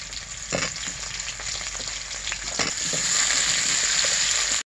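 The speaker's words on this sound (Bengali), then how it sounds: "পেঁয়াজগুলো কিপ করে কেটে রেখেছি, আলুগুলো ভেজে না রেখে একেবারে একবারে দিয়ে দিব" Onions and potatoes fry in white oil with bay leaf in a pan, giving a steady close sizzle that grows slightly louder toward the end, with a few soft stirring clicks and no talking.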